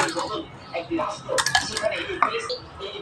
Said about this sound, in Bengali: এখন আমি ভর্তাটা বাটিতে নিয়ে নিতে আসি